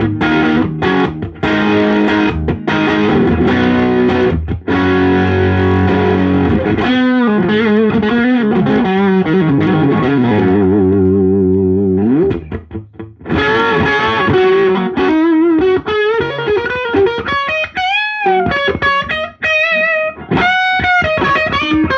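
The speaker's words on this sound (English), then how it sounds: "what I'm hearing from the turbo is just flat out distortion. This is just the pedal effect." Electric guitar played through a Tube Screamer overdrive pedal at the highest volume and gain, loud and saturated with sustained distorted chords and bent lead notes, a brief drop in level midway before the riffing resumes.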